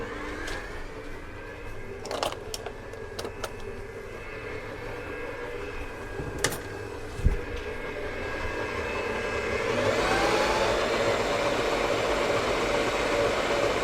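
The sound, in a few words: electric mixer mixing cake batter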